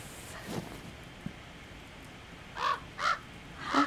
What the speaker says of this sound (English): This crow is so cute.